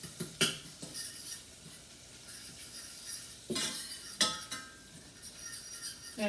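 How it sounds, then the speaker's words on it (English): A fork mixing butter and sugar in a pan, scraping and clinking against the metal in irregular bursts, with several sharper taps standing out, close and fairly quiet. "I'm going to use one of these, a fork, to mix this together."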